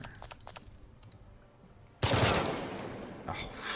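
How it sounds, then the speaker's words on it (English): In Jagged Alliance 3, a short burst of gunfire cracks loudly after a couple of quiet seconds of soft clicks, then a rattling roar of shots and echo trails off. "Let's go to burst fire."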